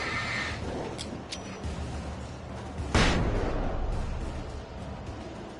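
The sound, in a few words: flashbang grenade exploding in Alan Wake video game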